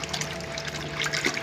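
Cotton cloth is squeezed and rubbed by hand in a container of water, producing a steady wet sloshing and squelching with soft splashes, close by and moderately loud.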